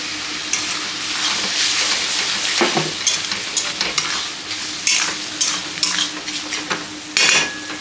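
A wet paste of Kashmiri chili powder, red chili powder and coriander powder hits a hot pan for a crab curry, sizzling loudly and steadily while a utensil scrapes and stirs through it.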